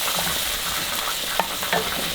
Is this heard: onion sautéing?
yes